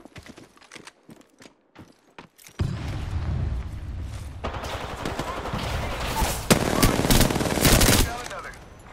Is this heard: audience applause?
no